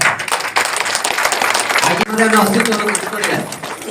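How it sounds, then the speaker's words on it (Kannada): Applause from an audience honouring Raju, a retired district judge, at a book event: a burst of dense clapping for about two seconds, then a voice talking as the clapping fades beneath him. "ಅವರಿಗೆ ಒಂದು ಜೋರಾದ ಚಪ್ಪಾಳೆ"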